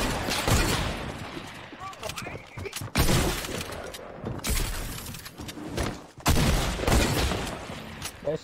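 Repeated loud shotgun blasts from the video game Fortnite, several heavy booming bursts spaced a few seconds apart amid other game sounds, with a person talking over them.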